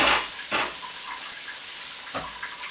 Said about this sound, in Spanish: Le pongo un poquito de agua para que no quede espeso